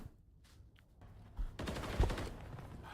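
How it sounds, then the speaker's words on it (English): Gunfire from the Call of Duty video game, a dense broadband burst of shots rising midway and continuing as a steady rattle to the end, moderately loud with no talk. "All I can tell you is that there is gunfire."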